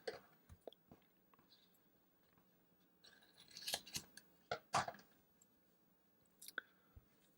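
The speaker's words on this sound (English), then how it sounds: "I cut a piece of this tape as the bottom layer, and then I cut one to go over top" Scissors snip through a piece of patch tape in a quiet shop, a scattering of short, close crisp cuts with a tight cluster near the middle.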